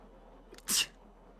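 A single sharp sneeze bursts out, brief and close, against a quiet background.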